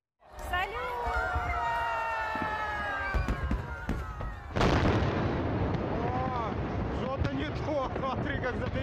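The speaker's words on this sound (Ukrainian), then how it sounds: "Фейерверки просто вибухнули на землі біля людей." Loud explosive bangs and crackling bursts of fireworks going off on the ground near people at an outdoor Independence Day event in Ukraine, with people's voices and a crowd murmuring underneath.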